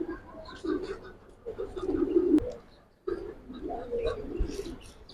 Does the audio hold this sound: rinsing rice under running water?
no